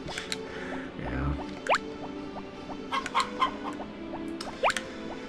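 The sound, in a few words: chickens clucking in video game Harvest Moon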